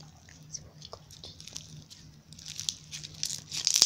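Crunchy slime mixed with added bits is squished and pressed by hand, giving soft crackling and crunching that grows louder and busier toward the end.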